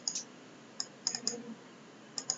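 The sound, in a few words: computer mouse double-click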